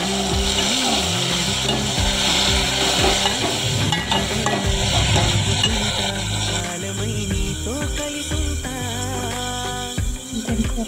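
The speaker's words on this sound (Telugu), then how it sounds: "మెంతికూర వేసి మంచిగా మెంతికూరని కలిపి మెంతికూర కొంచెం మగ్గనివ్వాలి" Fenugreek leaves are stirred and sautéed in a pan. A steady, close sizzle with occasional stirring scrapes plays throughout, partly covered by louder tonal background music.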